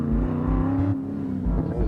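A track car nicknamed Sweet Opal accelerates up a hill at an autocross event, its engine note loud and steady and rising with throttle, with a brief shift or lift just before the one-second mark.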